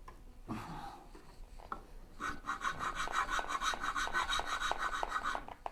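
A rasp or file works a wooden bow saw part, a few slow strokes giving way to a rapid, steady run of short rubbing scrapes, close and moderately loud with no talking.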